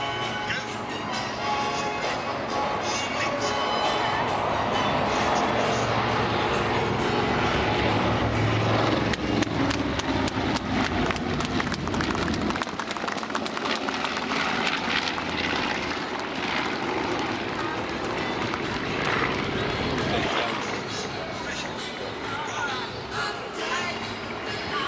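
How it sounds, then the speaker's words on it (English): A vintage B-17 bomber and a B-25 bomber fly past at an airshow, their loud, steady piston-engine propeller roar building and sustained throughout while an announcer speaks over the public address. "ladies and gentlemen, from the right, the B-17 and B-25"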